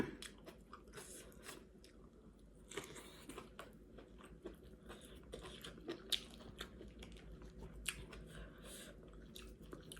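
Fresh shallots are chewed close up with crisp, repeated crunches and soft bites, steady and fairly faint.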